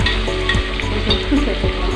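Onions sautéing until browned for homestyle mutton biriyani, a loud continuous sizzle close up with rhythmic stirring strokes.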